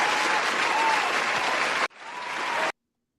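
A crowd breaks into loud, dense applause for supporters, sustained clapping that cuts off abruptly, resumes briefly and then stops dead.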